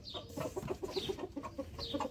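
Hens clucking in a backyard flock on a rural homestead, a series of short repeated clucks at moderate distance, with occasional higher calls over soft outdoor background.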